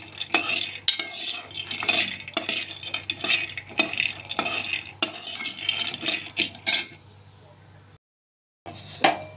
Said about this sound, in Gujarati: તો આપણે સિંગદાણાને સરસ રીતે શેકી લેવાના છે